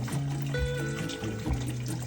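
Vietnamese crab soup broth being poured through a filter: a steady close trickle of liquid with a faintly rising tone as the vessel fills, continuous and without talk.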